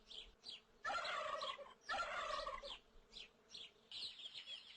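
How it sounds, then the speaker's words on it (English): A farm turkey gobbling in repeated rattling bursts with shorter calls between them, fairly close but quiet overall, with no talking. "This is a turkey."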